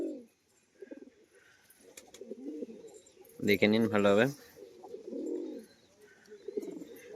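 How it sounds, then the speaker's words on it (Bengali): A pair of white-eyed fancy flying pigeons coo, with one strong, rolling coo near the middle and softer murmurs around it, close by, while someone speaks quietly in between. "তো পায়রা জোড়া খুব সুন্দর বাজির পায়রা।"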